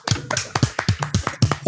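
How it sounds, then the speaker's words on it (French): Matt claps in the background of a podcast recording, a quick series of about ten sharp, close hand strikes in an irregular rhythm, fairly loud and heard alone without talk. "Matt aussi, il applaudit dans l'arrière, là."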